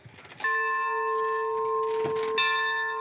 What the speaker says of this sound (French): Je donne un petit coup à nos belles cloches